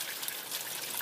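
Water from a sump drainage outlet pours steadily like a small waterfall into a creek, a continuous close trickling and splashing hiss with no voices.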